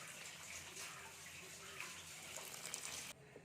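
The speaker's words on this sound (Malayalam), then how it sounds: "കുറച്ച് പാലൂടെ ഒഴിച്ചു കൊടുക്കും" Milk pours into a thickened payasam of vermicelli and sugar, a soft, close liquid gush running steadily for a few seconds before cutting off.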